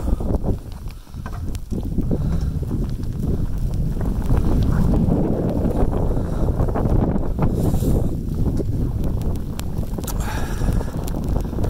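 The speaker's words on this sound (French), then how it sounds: "Ça c'est ce qu'on appelle une tempête hivernale, première grosse tempête de l'année." Strong, gusty wind from the first big winter storm of the year roars continuously and buffets the microphone with heavy low rumbling throughout; no voices.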